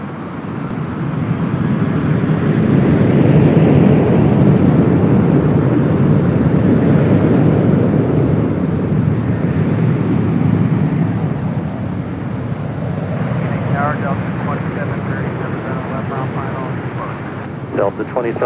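Airliner jet engines roaring on takeoff from runway 24 left at LAX, a loud broad sustained rumble that holds steady for most of the stretch and eases slightly near the end, with radio chatter faintly over it.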